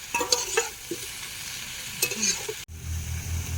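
Tomatoes just added to a hot pan: a burst of sizzling and spatula scraping, then a sudden cut to a lower, steady hiss of frying with no voices.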